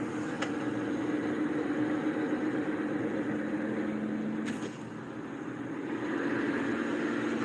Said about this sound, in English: That is the sound of a bad fucking wheel bearing.